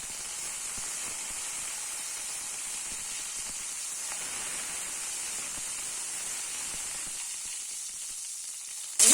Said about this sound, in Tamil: ஒரு ஸ்பூன் வெந்தயம், கருவேப்பிலை நம்ம இதுல போடுறோம்.